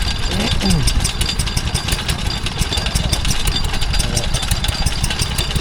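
Richmond and Chandler stationary engine from Salford, Manchester, powering a kibble mill at a spring fair, chugging with a steady rapid beat close by while someone talks over it.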